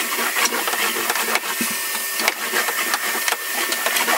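A vacuum cleaner runs steadily over a floor indoors, a loud continuous whine and rumble with small surges as it is pushed back and forth.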